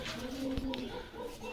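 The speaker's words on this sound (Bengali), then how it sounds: "এটা হচ্ছে ঢাকা কবুতর জেট কিস" A Dhaka Jet Kiss pigeon coos once, a low soft throaty call among other birds at a pigeon seller's loft, with faint background murmur.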